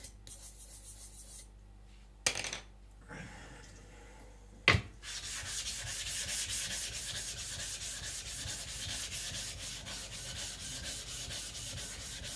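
An IKEA Chinese cleaver is sharpened on a whetstone, with a couple of sharp knocks early on, then a steady, continuous gritty rubbing of blade on stone that carries on to the end, no speech.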